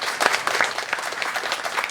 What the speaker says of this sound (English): Give Armando another round of applause